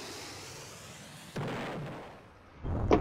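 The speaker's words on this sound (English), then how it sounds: "just drop these bombs and hope that they break something" Booming blasts of bombs exploding in the Roblox-style game Titanic Brickbattle, with one sharp burst midway and another heavier explosion near the end, each followed by a rumbling decay.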